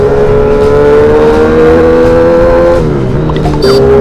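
Kawasaki Z800 motorcycle with a modified exhaust revving loudly and steadily up close, engine pitch holding high then dropping briefly before rising again, with no talking.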